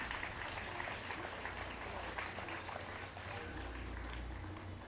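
Audience applause at the closing of a school STEAM fair, a dense, steady wash of many hands clapping that holds loud and even for the whole stretch, with no speech over it.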